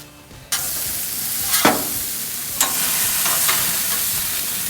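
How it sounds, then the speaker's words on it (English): Onion rings frying in a deep fryer for a patty melt, a steady broadband sizzle that starts abruptly as they drop into the oil, with a few louder crackles and bubbling bursts, close and continuous. "I'm gonna fry onion rings."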